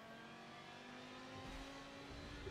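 Lamborghini GT3 race car engine in the Forza Motorsport 7 video game, a steady faint high revving drone with a slight swell midway, no talking.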